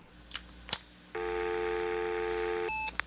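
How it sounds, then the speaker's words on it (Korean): A landline telephone is dialed by an elderly woman: a couple of faint clicks, then a steady multi-tone beep held for about a second and a half, followed by a few short tones, alone and close. "할머니는 어렵게 전화를 걸고 있었다."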